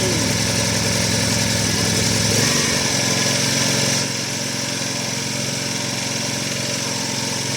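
A Nutool 2 kW petrol generator, started with the choke on, runs as a loud close buzzing engine that drops in pitch and settles to a steadier idle partway through, with no talk.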